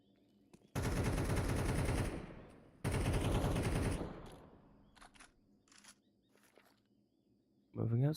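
AK rifle gunfire in Counter-Strike, heard as two long, loud bursts of rapid automatic shots, followed by quieter scattered game sounds, then a voice cutting in at the end.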